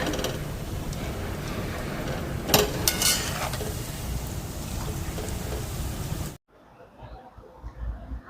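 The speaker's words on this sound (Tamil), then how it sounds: "அடுப்பை மீடியத்தில் விட்டு தான் பொரிக்கிறேன்." Steady crackling and bubbling of Jaffna-style rolls deep-frying in oil over medium heat, dense and continuous, with a brief clatter midway before the sizzle suddenly drops to a quieter hiss.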